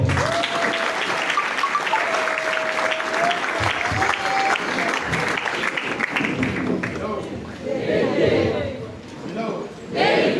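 A church anniversary audience applauds and cheers an apostle, loud sustained clapping mixed with crowd voices and a held tone, fading as people keep chattering.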